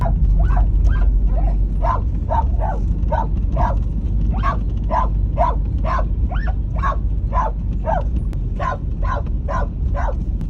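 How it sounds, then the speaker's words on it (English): A dog barks repeatedly on an Australian farm in a quick, insistent rhythm, close and loud, over a low rumbling background. "Tilly, I've heard alarms more pleasant than your bark."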